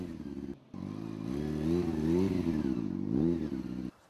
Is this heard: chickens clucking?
no